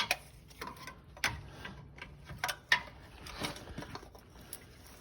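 A wrench tightens an oil filter on a 2017 Honda Pilot, producing light metallic clicks and taps at irregular intervals, close and fairly quiet, with no talking.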